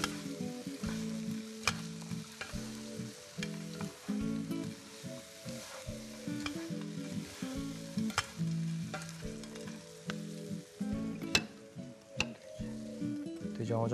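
Small anchovies stir-fried in a pan with corn syrup, a steady close sizzle broken by repeated scraping and clattering stirring strokes throughout.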